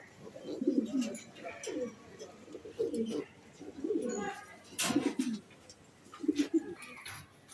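Red Budapest pigeons cooing at a pigeon farm, soft rolling coos repeating in short bursts every second or so, close by, with a few sharper chirps and background rustle.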